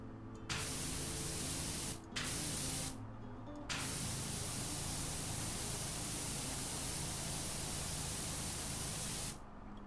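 A pressure washer sprays in PowerWash Simulator, a loud, close, continuous hissing jet that cuts out briefly a few times before starting again, with no talking.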